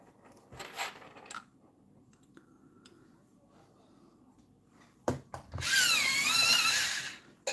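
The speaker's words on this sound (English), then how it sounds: "If you're wondering what noise it is, it's my chalk sharpener." An electric chalk sharpener grinds in a short, loud whirring burst near the end, after a stretch of quiet room noise and a few faint clicks and taps.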